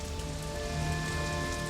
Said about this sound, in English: After the fires had burned for 3 days, the rain came.